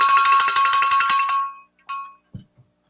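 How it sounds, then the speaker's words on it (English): A hand bell rung rapidly in a quick run of bright, ringing strikes that fade out, followed by a couple of lighter clinks; loud, close and alone. "We're going to ring the bell and you can begin your guesses."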